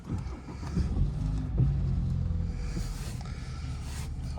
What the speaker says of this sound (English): I think it's probably easier to just start the car up.